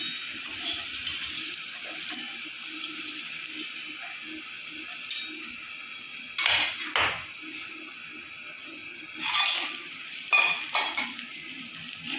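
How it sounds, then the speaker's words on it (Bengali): Lentil dumplings (bori) fry in a pan with a continuous sizzling hiss, broken by a few louder bursts where they are stirred or turned. "এখন আমি বড়িগুলো ভেজে নেব"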